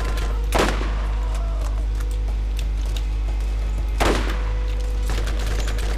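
Gunfire from the video game Borderlands: two loud, sharp shots about three seconds apart ring out over a constant low electronic hum.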